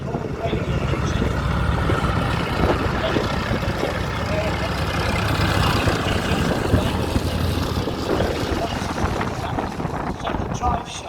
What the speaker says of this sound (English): By a seven-cylinder air-cooled radial engine.